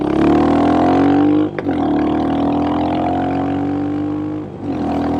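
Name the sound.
Crazy Mongoose RE 350 hot rod driving on pavement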